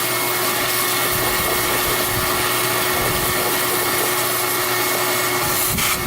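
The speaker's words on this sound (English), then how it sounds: "We're going to suck that up with a vacuum and do round 2" A vacuum cleaner runs continuously with a loud, steady whine, close to the microphone, sucking up debris from a Suzuki RM 125 dirt bike frame being cleaned of grease.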